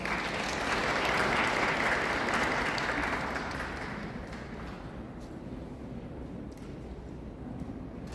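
An audience at a memorial gathering at Muan International Airport claps in sustained applause. It is loud at first and slowly fades, with scattered claps near the end.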